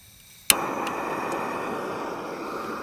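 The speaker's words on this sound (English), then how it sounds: "You can see why they call them jet boils, because they sound like a jet." Jetboil camping stove burner lighting with a sharp click and pop, then a steady loud roaring hiss of gas flame, heard up close on a small fishing boat.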